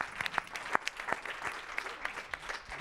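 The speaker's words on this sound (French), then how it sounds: "Et applaudir nos 3 intervenants" Applause from a conference round-table audience: scattered, fairly faint hand claps in a quick uneven patter, with no voices over them.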